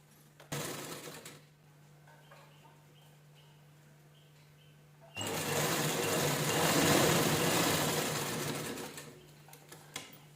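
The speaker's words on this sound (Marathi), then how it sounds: "पूर्ण राऊंडला व्यवस्थित स्टिच करून घ्यायचं" Sewing machine stitching the folded hem of fabric for a deity seat cover, with steady motor whirring in two bursts, a short run early and a longer loud run toward the end.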